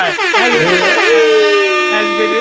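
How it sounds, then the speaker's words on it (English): A loud blaring air horn, held for a couple of seconds with a wavering, multi-toned blast. "Rico, can I get an air horn over there?"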